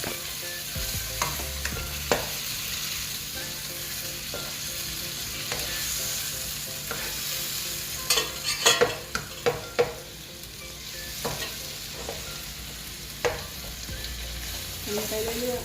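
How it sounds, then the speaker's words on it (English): A home pan of Bolognese sauce with pork and pasta water sizzles steadily while a utensil stirs and scrapes it in scattered clatters, close and moderately quiet. "And stir it."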